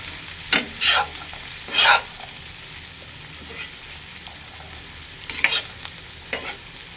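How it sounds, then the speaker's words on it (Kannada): Grated coconut frying in oil under a faint, steady sizzle, interrupted by a few short, sharp scrapes of stirring spaced a second or two apart. "ನಾನು ಫಸ್ಟ್ ಎಣ್ಣೆಗೆ ಹಾಕ್ಬಿಟ್ಟು ಫ್ರೈ ಮಾಡಿದೆ"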